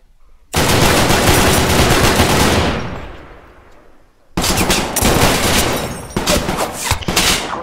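Sustained automatic machine gun fire in a Vietnam-era VR shooter, a long dense burst that tails off, a brief pause, then another heavy burst with sharp individual cracks, loud and close.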